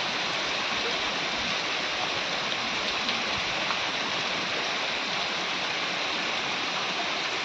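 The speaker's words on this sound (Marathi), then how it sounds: "थोडेसेच भजे उरले आणि हे पाऊस पूर्ण पूरच पूर." Heavy rain pouring down with floodwater running nearby, a dense, unbroken hiss that stays loud and even throughout.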